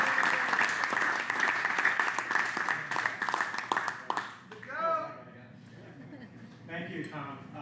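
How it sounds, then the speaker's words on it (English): Audience at a construction-industry panel on mental health and suicide prevention applauds the incoming moderator, a loud, dense burst of clapping that fades after about four seconds, followed by someone speaking. "You guys can give him a big round of applause."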